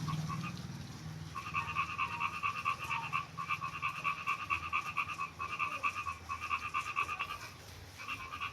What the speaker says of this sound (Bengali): মানে ব্যাঙ ডাকাডাকি শুরু করে দিয়েছে